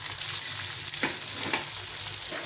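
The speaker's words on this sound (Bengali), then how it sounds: "এইভাবে আস্তে আস্তে এটা ভাজা হবে, মানে শ্যালো ফ্রাই হবে, ডিপ ফ্রাই করবো না।" Vegetable balls shallow fry in oil in a pan on a gas stove, a steady close sizzle with crackling pops and a few soft stirring scrapes.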